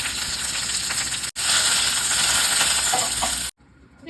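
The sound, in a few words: mustard seeds, dried chilli, curry leaves frying in coconut oil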